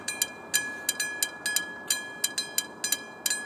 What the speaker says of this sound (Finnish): Okei, nyt se juna tulee kohta.